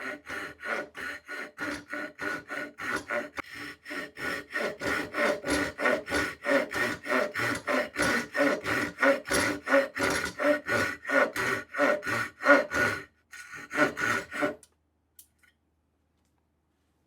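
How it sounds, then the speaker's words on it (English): A Japanese pull saw rips along a piece of pine in a long run of steady rhythmic rasping strokes, close and clear, speeding slightly before stopping and leaving near silence. "Now we're going to do a rip cut on a piece of pine."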